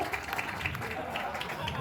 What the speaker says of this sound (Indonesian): Gong baru tepuk tangan